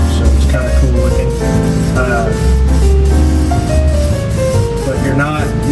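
Spray paint hisses steadily onto the brake parts of a 2015 Blue Bird Vision bus during a brake job, a continuous close spray heard under someone talking throughout.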